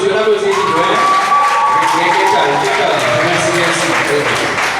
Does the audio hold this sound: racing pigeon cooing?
no